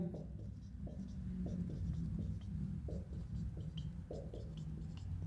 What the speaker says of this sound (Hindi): देखो 194 सभी के आगे लिख दिया।